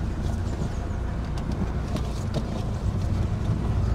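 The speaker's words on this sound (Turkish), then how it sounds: "Direksiyon kutusunda çok büyük bir ses var." Renault Kangoo driving with a loud noise from a faulty steering box, heard as a steady broadband rumble and rattle throughout with no talk over it.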